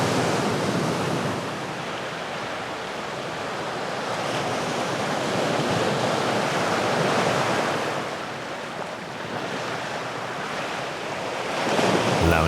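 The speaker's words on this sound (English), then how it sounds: "we listen to the rhythmic sound of the waves and the singing of the birds" Ocean waves roll onto a yellow-sand beach on São Tomé, a steady, loud wash of surf rising and falling in slow swells, with some wind buffeting the microphone and no voices.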